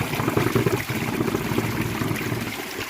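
Natural spring water trickling down from a mountain along a Narmada parikrama route, a steady close splashing dribble that continues evenly without talking.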